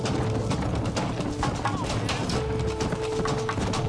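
Hoofbeats of a galloping horse in Red Dead Redemption drum steadily under game music and a talking voice, with no break in the rhythm.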